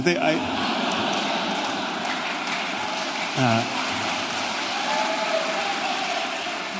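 Audience applause fills a Vancouver discussion hall with Jordan Peterson, a dense, steady wash of many hands clapping at once that holds evenly from start to end, with faint voices and murmurs mixed underneath.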